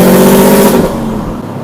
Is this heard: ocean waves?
no